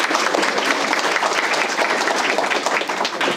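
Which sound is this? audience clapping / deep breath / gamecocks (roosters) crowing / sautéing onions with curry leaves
audience clapping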